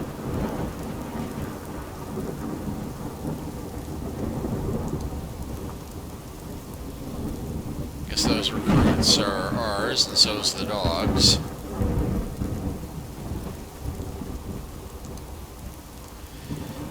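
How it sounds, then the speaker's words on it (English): Steady rain hisses throughout a video game radioactive storm in Fallout: London while a loud thunderclap rolls through midway, and someone speaks briefly over the storm. "I encountered radioactive storms"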